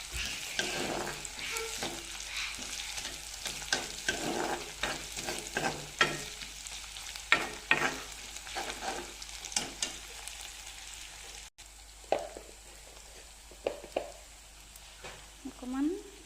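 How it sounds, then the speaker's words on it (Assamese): Ginger, garlic and green chillies fry in a pan while a utensil stirs them, bursts of sizzle and scraping clacks in irregular rhythm, fading to lighter scattered sounds, with faint speech in places. "এতিয়া অকণমান লৰাই দিম।"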